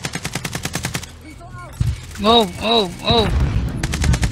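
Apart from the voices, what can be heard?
gunfire in Warzone video game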